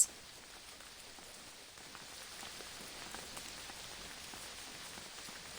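Steady rain pattering on a surface, an even, continuous wash of drops that holds at a constant level throughout with no voices.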